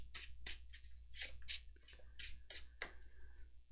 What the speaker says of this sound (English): now we shuffle these mulliganed cards